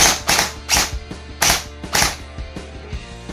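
Classic Army Stoner LMG airsoft gun test firing on the bench after tappet plate repair: a run of sharp, loud cracking shots in uneven bursts, about eight distinct reports with short gaps, close and without talk.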